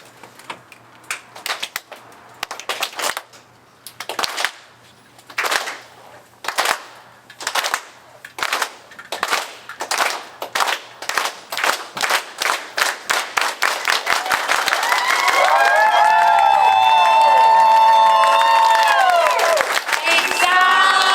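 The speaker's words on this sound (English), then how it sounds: "And then clap together as one in solidarity right here in Historic Filipinotown." A live audience in Historic Filipinotown performs the Isang Bagsak unity clap: sharp claps in unison, slow at first and gradually quickening into a rapid roll, then breaking into sustained applause and loud cheering with whoops.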